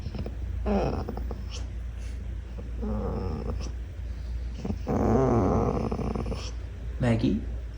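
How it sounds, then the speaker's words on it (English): A small, docile dog groans and moans indoors, giving several drawn-out, low grumbling vocalizations spaced a couple of seconds apart, close and fairly clear. "She regularly just sits around and groans."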